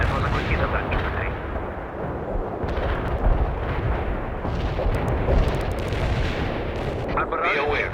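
Artillery barrage in the World in Conflict war game, a dense continuous rumble of heavy shell blasts and booming impacts, loud and sustained, with radio-style voices speaking over it.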